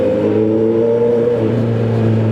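Motorcycle engine revving at a campsite resort, a steady loud low droning hum with strong harmonics that holds nearly constant throughout, close by and with no talking.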